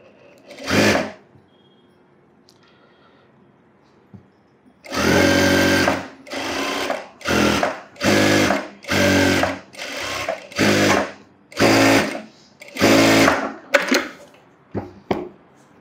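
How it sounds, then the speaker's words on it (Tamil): An electric sewing machine stitches the lining of an umbrella frock in loud, close bursts: one short run, a pause, then a rapid series of separate stitching runs with brief gaps between them. "இப்போ அந்த மார்க்கு மேலே தையல் போட்டுடணும்."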